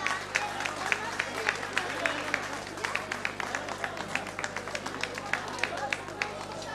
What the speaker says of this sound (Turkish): Alkışlar geliyor,